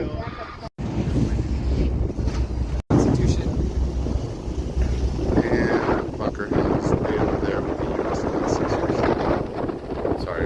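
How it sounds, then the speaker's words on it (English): Wind buffets the microphone over a steady engine rumble and rushing water aboard a ferry crossing a river in Boston, with voices talking intermittently. "this is our ferry taking us across the river"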